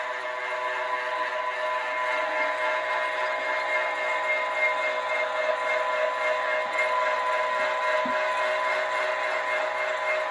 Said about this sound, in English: You can hear the grinder as it's chugging through.